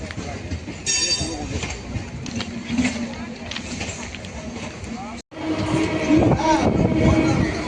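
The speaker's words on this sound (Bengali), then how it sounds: "ট্রেনটা বালিগঞ্জ ছেড়ে দিয়েছে আমি ট্রেনটা চেপে গেছি বাড়াইপুর লোকাল" Baruipur local train pulling out of Ballygunge station toward Dhakuria, with a steady rumble and rattling carriages close by, a brief dropout, then louder rolling noise as it gathers speed, voices mixed in.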